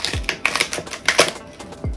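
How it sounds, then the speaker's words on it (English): Knife chopping celery stalks on a cutting board, a quick run of sharp clicky cuts with a heavier thump at the start and end, close up. "So I'm gonna cut my celery first, which I'm just gonna cut them in two"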